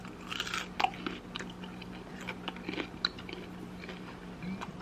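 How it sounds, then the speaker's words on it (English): Close-up bites into crispy fried tofu coated in cornstarch and flour give faint, brittle crunches and chewing in a quiet room, with irregular crackly bursts spread across the moment. "I'm about to take a bite out of it"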